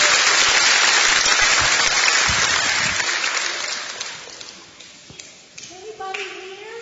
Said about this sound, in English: let's give a big round of applause to all of our helpers.